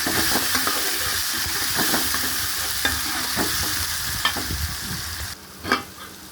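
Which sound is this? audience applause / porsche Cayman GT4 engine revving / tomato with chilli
tomato with chilli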